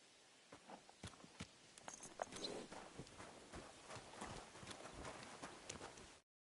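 Horse hooves clop in steady walking rhythm in the medieval video game Kingdom Come, a continuous series of close, crisp footfalls with no talking, ending abruptly.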